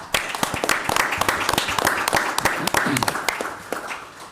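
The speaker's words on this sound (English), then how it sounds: "but let's give Justin another round of applause." Audience applause at a city council regular meeting in East Peoria, with loud, close individual claps rising out of a dense round of clapping for several seconds before tapering off.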